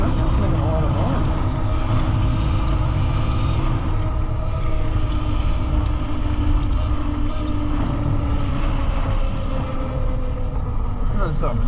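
A dirt bike with a swapped QS138 70H V3 engine runs at speed on a top-speed pass, its steady engine drone mixed with heavy wind rush and a rattling, loose wheel, continuous and close throughout.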